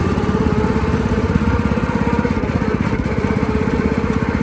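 A lawn mower runs steadily up close, its engine a loud, even chugging drone with a rapid regular pulse throughout.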